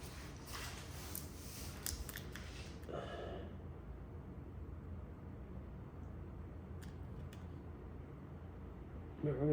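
Blade cutting vinyl wrap on a Tesla rear bumper, a close, soft scratchy slicing in the first few seconds, then a quieter stretch of faint low rustle with a brief scrape near the end.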